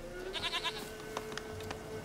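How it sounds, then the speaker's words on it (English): A goat in The Witcher 3 game bleats in a short run of wavering cries near the start, followed by faint clicks and soft rustling in a quiet scene. "Here, goat. Here, princess."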